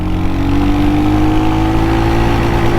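A Royal Enfield HNTR 350 motorcycle accelerating in second gear, its single-cylinder engine droning loud and close as the pitch climbs steadily upward throughout.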